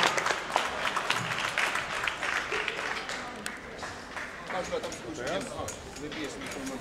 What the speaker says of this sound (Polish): Brawa dla Pawła i oczywiście dla Kamila.